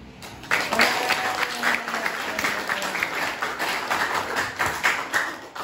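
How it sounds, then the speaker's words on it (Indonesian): Classroom applause for a presenting group, a dense patter of many hands clapping steadily for several seconds at moderate distance. "Berikan aplaus buat kelompok penyaji."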